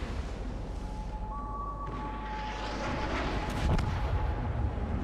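Secondary guns of a battleship firing in a naval battle video game, a broad rumbling barrage with a steady tone ringing over it and a sharper burst near the end.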